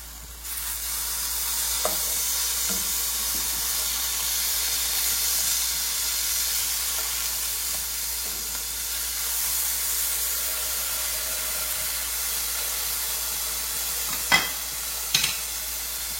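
Beef burger patty frying in a pan, a constant close hissing sizzle that holds steady throughout, with a few brief clicks and knocks near the end and no talking.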